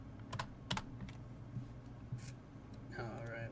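A computer keyboard clacks in a few quick bursts of keystrokes, faint and close, followed by a denser run of typing at the end, over a low background hum while playing an EverQuest private server.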